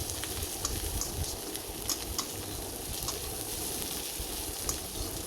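Onions fry and are stirred in a pan while cooking a shrimp and green banana curry, giving a steady, close sizzle with scattered crackles and the light scrape of stirring throughout.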